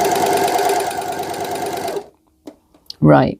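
Overlocker sewing machine chaining off thread runs loud and steady as a fast, continuous mechanical hum for about two seconds, then stops, followed by a few small clicks and a brief spoken word.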